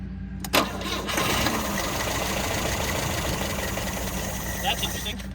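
A 1971 Volvo 142 engine catches after a short crank and settles into a loud, steady, rough-edged idle, heard close up.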